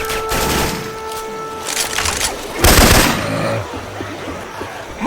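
Syphon Filter weapon sound effects are swapped into Left 4 Dead 2 gameplay: loud bursts of rapid gunfire rattle in short volleys, with one heavier blast near the middle, over a busy game background.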